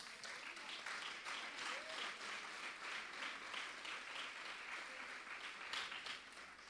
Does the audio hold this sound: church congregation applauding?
yes